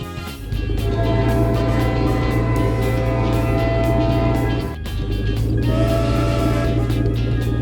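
A steady, loud rumbling cartoon train sound with a sustained tonal hum, briefly dipping midway before continuing, with no voices.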